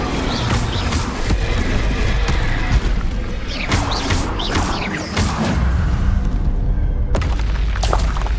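Incendio fire spell blasts in Hogwarts Legacy combat, loud booming bursts and whooshing crashes repeating over a dense, rumbling battle din.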